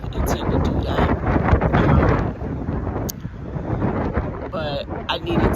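Wind buffets the outside of an old, run-down car, a rough, loud rumbling gust noise that swells and eases, with brief knocks and a faint rattling squeak near the end.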